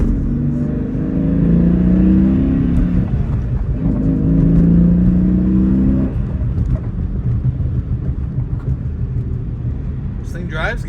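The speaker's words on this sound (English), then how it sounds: "All right, let's drive it." A car driving on a road with ice on it after being bought at a dealer-only auction, the engine rumbling and rising in revs through two acceleration pulls before settling into a steady cruise drone.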